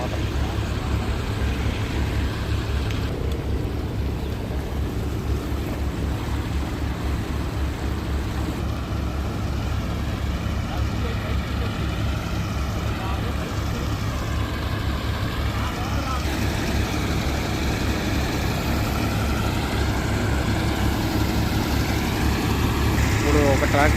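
Tractor engines drive pumps pulling canal water through HDPE pipe at a construction site, a constant low diesel rumble with a steady throb that carries on beneath talking.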